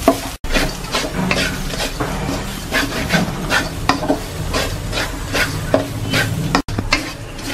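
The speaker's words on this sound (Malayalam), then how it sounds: "കരിയാതെ നല്ല ഇളക്കി കൊടുക്കണം." Grated coconut and turmeric powder fry in a pan for beef curry, stirred steadily with a wooden spoon, producing repeated scraping, rasping strokes over a soft sizzle, close and fairly loud.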